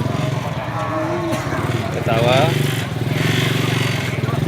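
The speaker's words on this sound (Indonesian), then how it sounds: "Ini jenis kambing etawa." Livestock at a busy Wednesday animal market in Sibreh, Aceh, with Etawa goats among sheep and other breeds; low animal calls sound close and loud over a steady engine drone and crowd noise.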